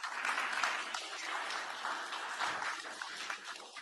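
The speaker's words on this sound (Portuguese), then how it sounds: "Uma salva de palmas, por favor" Audience applause greeting Sara Netanyahu and pastor Paula White-Cain as they come to the stage, a dense, continuous crowd clapping that fades slightly toward the end.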